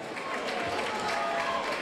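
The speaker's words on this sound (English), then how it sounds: "a round of applause," Audience applause for boxer Harry Softley at a Friday fight night boxing event: a steady, dense wash of clapping from a crowd, continuous and fairly loud throughout.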